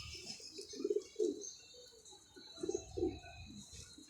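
A pigeon coos softly nearby in two low, throaty phrases separated by a short pause, with faint chirps in the background.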